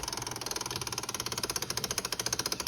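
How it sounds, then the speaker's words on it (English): Steady rapid mechanical clicking from the exhaust flapper valve actuator on a GSXR750 motorcycle, a close, even pulsing train of ticks with a buzzy hum beneath, running continuously without pause. "the actuator is in here, and the actuator is clicking"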